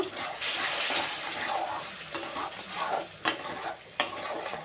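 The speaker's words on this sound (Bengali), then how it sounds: "আবারও আমি অল্প জল দিয়ে সুন্দর করে কষিয়ে নেব" Bengali-style masala for an egg curry is fried and stirred with a splash of water. A wet, bubbling sizzle comes with the spoon scraping the pan, and a few sharper knocks and scrapes punctuate it nearby.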